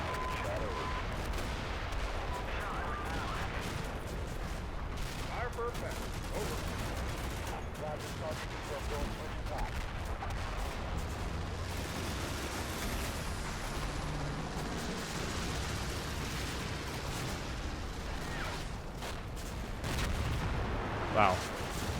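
Battle gunfire in a military video game, a Marine Expeditionary Unit engagement with snipers, crackles as a continuous distant rattle of shots under a dense rumbling bed, with no clear standout blasts.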